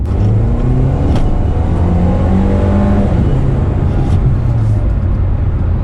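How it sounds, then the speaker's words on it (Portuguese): A Mercedes A-Class Sedan turbo engine revs loudly and continuously from inside the cabin, pitch rising and falling with acceleration, with a turbo whoosh under the roar. "a hora que você põe o pé, você escuta as turbinas na hora trabalhando"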